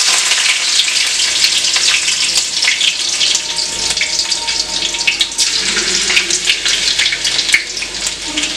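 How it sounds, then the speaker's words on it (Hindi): Garlic fries in hot refined oil, a loud, dense, continuous sizzle and crackle that goes on steadily without speech. "लहसुन को हल्का सा भून लेंगे।"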